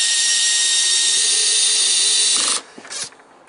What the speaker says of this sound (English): I'm just going to work my way along, installing one screw and a countersunk hole in every joist